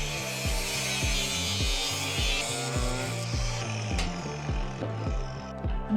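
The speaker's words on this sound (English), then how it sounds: "Back to the trusty grinder we go, which is gonna be slower." A trusty angle grinder cuts slowly through material on a DIY house build, a loud, steady high whine with a regular pulsing chatter running throughout, close and continuous with no talking.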